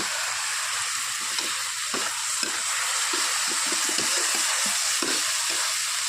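Onions and potatoes fry for a Punjabi sabzi in a home kitchen, a steady, even sizzle with occasional soft stirring scrapes throughout.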